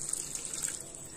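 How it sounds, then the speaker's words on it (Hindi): Half a cup of water poured into a smoothie blend of honey, chia seeds and cinnamon powder: a soft, steady splashing trickle, quiet and continuous, with no voices. "और इसमें हमने 1/2 कप पानी डाल देना है।"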